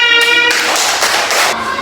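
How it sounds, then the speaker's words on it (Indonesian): Audience applause at an Indonesian stage event bursts up briefly and fairly loud, a dense wash of clapping layered over a steady tonal music bed. "Dan tepuk tangan."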